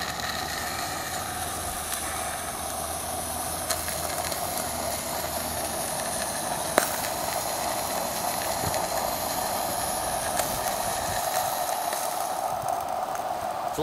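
A live steam Shay locomotive, out of fuel, runs off onto the steam up track with a steady, close hiss of steam over a rumbling mechanical drone, holding an even level throughout.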